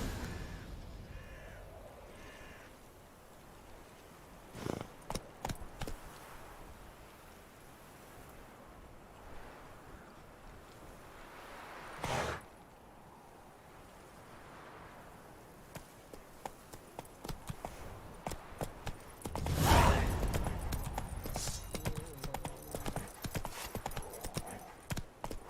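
Horse hooves in The Witcher 3 pound in a steady galloping clip-clop, moderately close, with intermittent sharper thuds and a gust of wind-like noise over the rhythmic beat.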